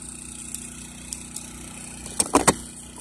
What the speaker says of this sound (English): I'm gonna make sure it runs before I put it all back together.